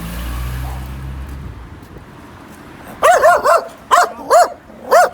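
A dog barks several times in quick bursts, fairly close, after a few seconds of low rumbling background noise.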